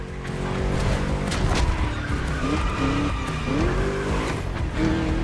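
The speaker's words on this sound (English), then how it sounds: "Just listen to that V8, like a chunky, down-tuned guitar riff." A V8 Mustang muscle car engine in a racing video game roars and revs, its pitch rising and falling, with tire squeals and skidding mixed in.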